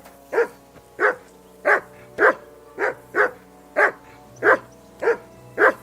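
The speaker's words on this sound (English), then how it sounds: "Henry, call that dog to heel." A dog in the medieval game Kingdom Come: Deliverance II barks about ten times in an even, steady rhythm over roughly six seconds, with soft whimpers between the barks and a quiet ambient background.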